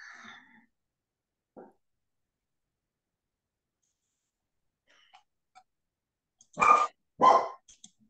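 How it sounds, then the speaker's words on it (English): A small puppy indoors gives a couple of short, sharp barks close by near the end, after a long quiet stretch with only faint scattered sounds. "We've got a little puppy in the house."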